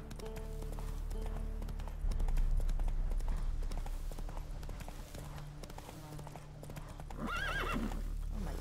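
Roach the horse from The Witcher 3 gallops with steady, rhythmic hoofbeats under game ambience. A whinny rises near the end.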